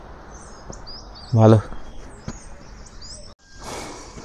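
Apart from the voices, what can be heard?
birds calling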